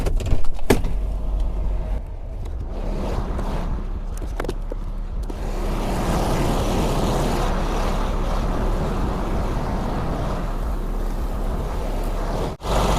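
A truck engine cranks in a few rough, stuttering bursts, then catches and settles into a steady, loud running rumble that holds for several seconds before a brief dip near the end.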